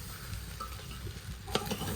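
Spices and ghee frying in a pressure cooker for a village snack, a soft continuous sizzle with a few light stirring scrapes near the end.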